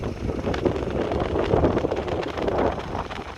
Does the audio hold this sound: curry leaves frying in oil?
no